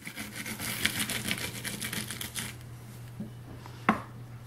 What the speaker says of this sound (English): put some pressure on this as I roll my brush back and forth over the layer